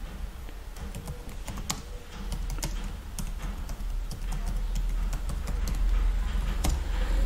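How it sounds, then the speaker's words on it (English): Continuous typing on a computer keyboard, close and clear, with rapid uneven key clicks and taps running throughout over a low background rumble. "I am here typing congratulations, you have passed the exam."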